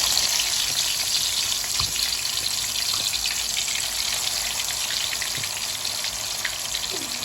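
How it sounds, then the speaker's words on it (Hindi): Marinated fish pieces frying in hot oil give a steady, dense sizzle that holds evenly the whole time, with no talk over it. "हमने फ्राई के लिए इसको सारी फिश इसमें डाल दी है।"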